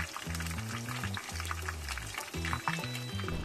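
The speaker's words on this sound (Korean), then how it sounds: "양파를 기름에 튀겨. 볶지 말고" Onions deep-frying in oil: a continuous crackling sizzle, moderately loud, with a tonal musical backing playing over it.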